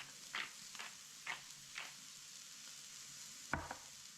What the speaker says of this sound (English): it's cooking in the pan